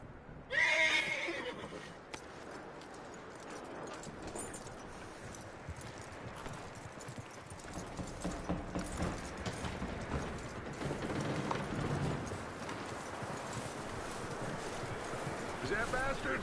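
A video-game horse neighs loudly near the start, then hooves clip-clop on and off amid mechanical clanks and background game noise, with a voice speaking faintly at times.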